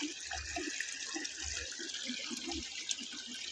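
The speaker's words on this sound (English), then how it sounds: "Here's another great stream viewpoint." Puget Creek flows past during a snowstorm hike, a faint, steady babbling and trickling of water with small splashes and gurgles heard up close in a quiet setting.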